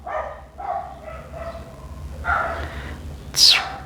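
A dog barking indoors in a series of yips and short barks, several evenly spaced calls rising to a sharper, higher bark at the end, fairly close and heard without talk.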